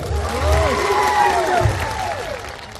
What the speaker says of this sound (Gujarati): પોલીસ માટે એકવાર જોરદાર તાળીઓ પાડી લો